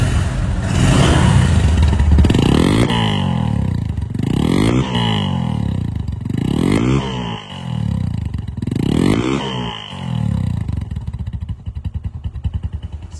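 A Bajaj Discover 135 cc motorcycle engine runs close by, revved repeatedly in a series of rising and falling surges, then settles to a rapid, clattery idle.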